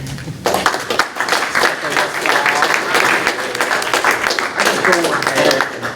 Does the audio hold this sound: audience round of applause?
yes